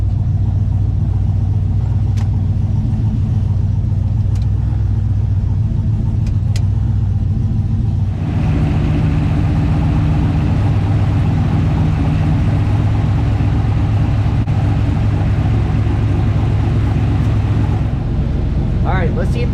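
A truck with a 4L80E automatic transmission runs up through the gears, its engine a steady, loud rumble that shifts in tone partway through as it pulls.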